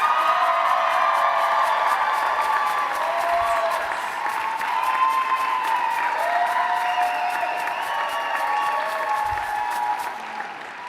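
A large crowd at a physician assistant program graduation and hooding ceremony applauds steadily and loudly, with scattered cheers and whoops mixed into the sustained clapping until it begins to fade at the end.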